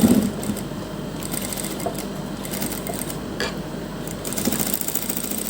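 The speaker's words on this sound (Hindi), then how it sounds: "इस तरह से हम इसके ऊपर भी सिलाई लगा देंगे।" A sewing machine runs steadily, stitching fabric strips onto a neck design, its fast mechanical whir continuous and close for the whole stretch with no talk.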